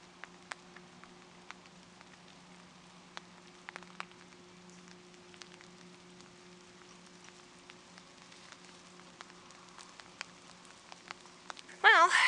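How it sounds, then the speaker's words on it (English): Light drizzle patters faintly during an outdoor walk. Scattered soft drop ticks sit over a steady low hum, and a louder, brief rustling burst comes at the very end. "I guess that's about all I can show you for a walk in the rain."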